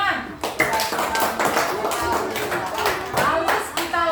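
A classroom of pupils clapping hands together in a Pancasila civics lesson, quick rhythmic claps close by mixed with children's voices and chatter throughout.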